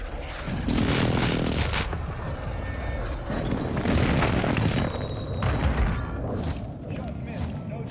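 Airstrike explosions in Warzone 2, heard as repeated loud, broad booms and rumbling blasts spread across the stretch, with dense debris-like noise between them and a faint high whine above.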